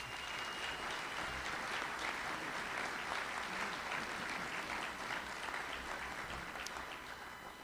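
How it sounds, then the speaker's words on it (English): Audience applause rolls steadily through a college presidential inauguration ceremony, many hands clapping at an even, moderate level before tapering slightly at the close. "Please give them a round of applause."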